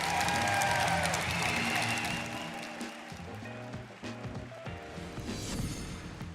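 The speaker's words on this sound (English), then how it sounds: "the crowd goes absolutely wild for their first ever Pokemon Go World Champion" A large crowd at the Pokémon Go World Championship finals in London applauds and cheers loudly, the roar peaking at the start and then easing into steady clapping with scattered whoops.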